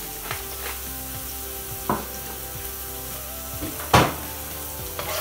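Onion and garlic fry in oil in a pan with a steady close sizzle, broken by a few sharp clatters as the food is stirred.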